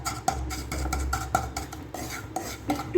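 Semolina being stirred with ghee in a dry pan, with repeated scraping and tapping strokes of a spoon against the metal at an uneven rhythm, close and fairly loud, with faint sizzling underneath.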